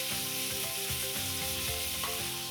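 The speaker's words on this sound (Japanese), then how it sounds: "ちょっと強火で焼き目つけていく感じですね" Pork sears over high heat in a wok with a strong, continuous sizzle. Tossing and stirring noises sit close underneath it, and no one speaks.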